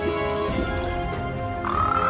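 A large frog croaks at a lake covered with table-sized lily pads, its low, rasping call sitting in a dense, humming natural backdrop, with a brighter chirping call rising near the end.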